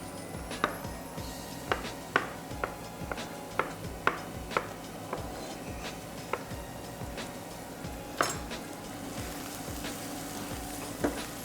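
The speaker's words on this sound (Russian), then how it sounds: "И пока жарится лук, мы будем резать грибы." Mushrooms are sliced with a knife on a cutting board while onion fries in a pan, giving a steady series of crisp, close chops over a soft sizzling background, with no talk.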